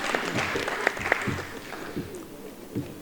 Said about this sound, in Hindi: आप तमाम लोगों से गुजारिश है जोरदार तालियों में इस्तकबाल करें